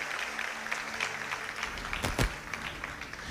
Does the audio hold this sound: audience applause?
yes